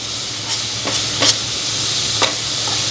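Carrot sautés in a hot pan with fenugreek for carrot pachadi, a bright steady sizzle broken by a few quick spatula scrapes close by.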